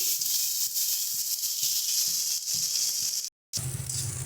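Loud, bright sizzling of shrimp head paste frying in a pan while being stirred, a constant hiss with scraping stir strokes, a brief drop to silence, then the sizzle resumes.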